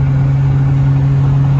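Acura TSX engine idling steadily, a loud, constant low hum with a strong tonal drone and no other sounds on top.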